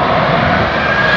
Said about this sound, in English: it's just going to be crossed over my head to land down on Hito Airport